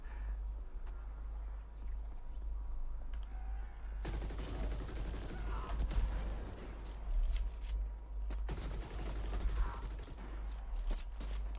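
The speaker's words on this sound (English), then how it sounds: "What's shooting at me?" Gunfire from The Ascent video game rattles in two sustained bursts of rapid shooting, the first starting around four seconds in and a second later on, over a steady low game hum with no talking.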